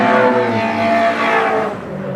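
An Opel Corsa and a Golf race down a quarter-mile drag strip at a street event, engines roaring loudly at high revs and then easing away over about two seconds.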